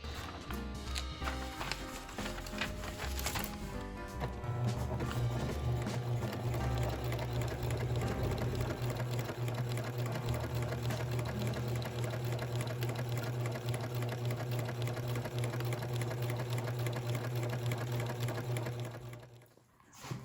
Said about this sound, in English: I am going to make some buttonholes.